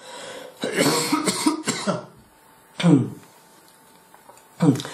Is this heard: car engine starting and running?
no